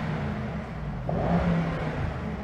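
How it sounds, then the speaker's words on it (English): A Mercedes E63 S with its exhaust in the loudest setting revs while stationary, a deep, rumbling engine note that swells into a brief rev midway and then settles back to a throaty idle. "So I've got the exhaust in its loudest setting."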